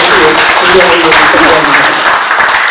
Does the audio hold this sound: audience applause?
yes